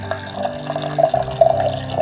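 A drink is poured into a glass, giving a close, bubbling trickle with rising glugging tones that runs for about two seconds without talk.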